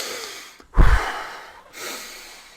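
A voice imitates breathing in and out, a sharp loud snort-like inhale followed by a longer, softer exhale, alone without words.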